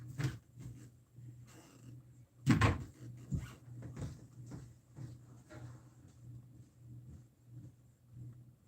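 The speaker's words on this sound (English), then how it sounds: "I'm going to go shut the door so the dogs don't bother us." A household door is pushed shut with a solid thud in the middle, surrounded by soft footsteps, knocks and a low steady hum, no talking.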